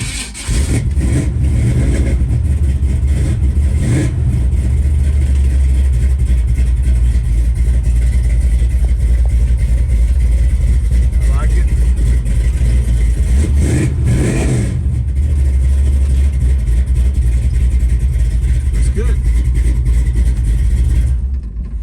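A 1965 Chevrolet Nova engine runs loud and close, a steady deep idle rumble broken by a couple of brief revs, with no talking.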